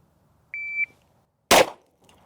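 A single sharp pistol shot fired at a shooting range, loud and close, cracking out alone after a brief electronic beep, with the report ringing off quickly.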